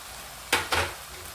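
Tomatoes and spices sauté in a pan for chole, with two quick scraping, sizzling stirs close by, separated by a brief pause, against a quiet background.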